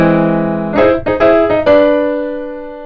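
A 1970s Japanese fusion song plays as a short burst of bright, sustained keyboard chords with a few quick melodic changes before ringing out and fading.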